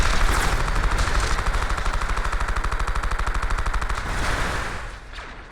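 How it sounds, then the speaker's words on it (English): Defensive turrets on a ship in a space combat video game, firing in a fast steady rapid-fire burst that runs for several seconds before tapering off, with no talk. "you can just stay back in the comfort of your own ship and operate defensive turrets"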